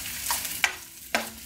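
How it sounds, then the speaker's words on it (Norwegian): Sausages and onion frying together in a pan while being stirred, with a steady broadband sizzle broken by a couple of sharp scraping clicks. "Nå driver pølsene og freser vei oppi her"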